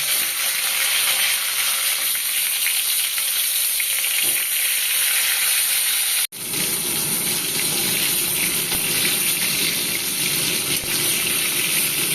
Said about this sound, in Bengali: নুন হলুদ মাখানো পটলগুলো আমি দিয়ে দিলাম দিয়ে ভালো করে ভেজে তুলে নেব